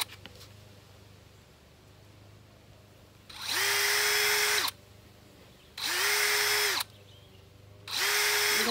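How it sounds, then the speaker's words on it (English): Small cordless drill with a tiny bit boring holes in a plastic planter cap, three separate loud whining bursts of about a second each, separated by quiet pauses. "I've got my little cordless drill here, and I have a real small drill bit on the end of it"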